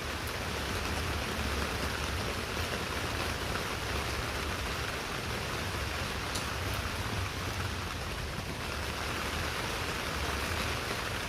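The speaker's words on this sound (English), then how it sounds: "Can you hear the rain?" Steady rain falling outdoors, a continuous dense hiss of drops on surfaces with a low rumbling undertone, even and unbroken throughout with no voices.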